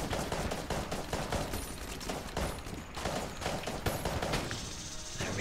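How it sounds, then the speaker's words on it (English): Rapid gunfire from a fast-clicking weapon in Enter the Gungeon, with a continuous, loud stream of quick shots throughout. "It's one of those weapons that allow you to fire as fast as you can click"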